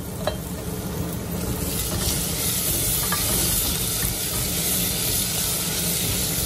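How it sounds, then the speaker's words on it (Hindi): Onions with grated ginger and garlic fry in a hot pan, a loud, steady, close sizzle and hiss that holds evenly, with no talking. "अब हम इसको थोड़ा गोल्डन ब्राउन होने तक भूनेंगे"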